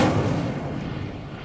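A booming burst from the Incendio fire spell in a Hogwarts video game: a loud, broad whoosh-blast that hits at once, then fades into a rumbling tail over about a second and a half, with no voices.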